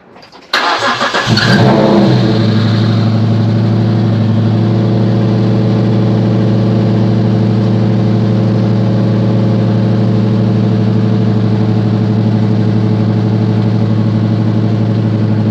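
A car engine with more than four cylinders cranks and fires up loudly at close range, then settles into a strong, steady, rumbling idle that holds for the rest of the sound.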